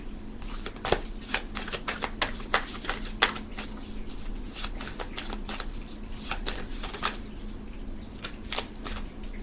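Moonology oracle cards being shuffled by hand, a steady run of crisp flicking riffles and soft slaps at close range with no talking over them.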